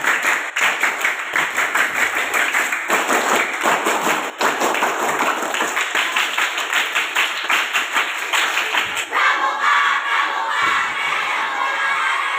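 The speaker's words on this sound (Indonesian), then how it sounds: "Tiga kali tepuk pramuka." A troop of Indonesian scouts at a rally chanting and clapping together in loud, rhythmic bursts, a dense crowd of young voices shouting throughout with sharp repeated claps under the chant.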